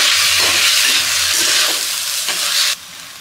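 Chopped tomatoes stirred in a hot pan for a creamy masala macaroni pasta, a steady broadband sizzle with scraping spoon strokes repeating every half second or so, loud and close, cutting off sharply near the end.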